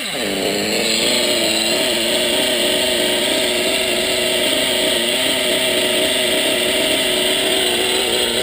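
A small engine, not yet warmed up, runs close by at a high, steady idle, its buzzing drone wavering slightly without letting up.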